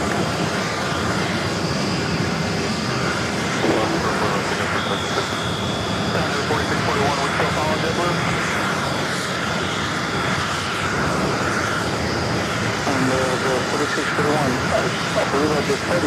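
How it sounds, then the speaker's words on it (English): A Delta Airlines Airbus A321neo takes off at JFK, a sustained broad engine roar that builds and holds throughout, with radio chatter and voices talking over it. "Next takeoff is Delta Airlines flight 491 heading to Seattle. It's an A321 Neo."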